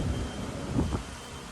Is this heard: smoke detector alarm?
no